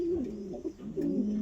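Young racing pigeons coo in soft, low, rolling phrases, two bursts close by with a brief pause between, no talk over them.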